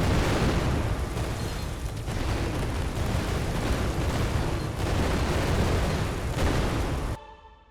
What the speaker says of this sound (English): you just hear the explosions and everything